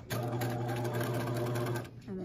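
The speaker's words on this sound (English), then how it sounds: "Make sure when you are sewing your gather stitching" Sewing machine running a row of gather basting stitches on a romper, a steady close mechanical whir with rapid needle rhythm for about two seconds, briefly stopping and restarting at the end.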